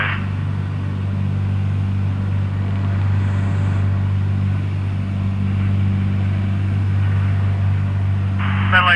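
A Sonex light aircraft engine drones loud and steady with a strong low hum and rumble during the takeoff run from a turf strip, the pitch staying mostly even throughout.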